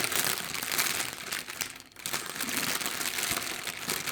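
Paper flower craft material crinkles and rustles close up in a dense, continuous crumpling texture with a brief lull midway and no voices.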